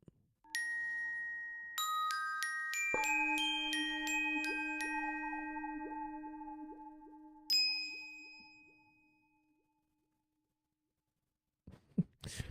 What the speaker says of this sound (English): let's go to the bells, the glockenspiel, the glock. Let's see what it sounds like.